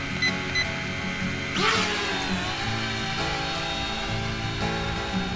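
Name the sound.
JJRC H71 quadcopter drone flying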